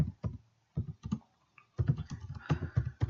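A name being typed on a computer keyboard, with short bursts of close, crisp key clicks separated by brief pauses, then a denser, quicker run of keystrokes.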